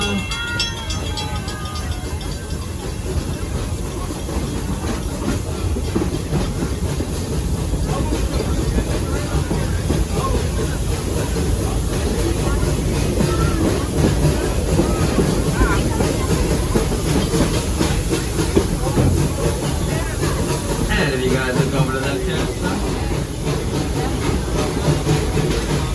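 The Serengeti Express amusement park train rolls along its rails with a continuous rumbling, rattling clatter and hiss that holds steady throughout.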